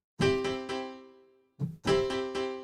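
A synth chord from a Cubase MIDI echo plugin strikes and repeats in quick echoes that fade, then strikes again with the note length of the repeats growing shorter each time.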